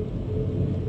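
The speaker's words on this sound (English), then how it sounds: "That's the wind tunnel." Wind tunnel ambience from the adventure game RealMyst: a steady, low, droning rumble of rushing air, continuous and even, with no talk over it.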